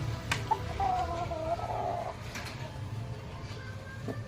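Chickens and a rooster cluck and call nearby after being let out of their coop, scattered short clucks over a low background hum, with faint bird sounds and no talk.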